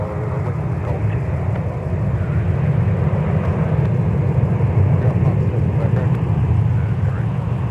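A jet airliner taxis slowly toward the gate at MSP airport with a steady, loud low engine rumble and roar that holds throughout.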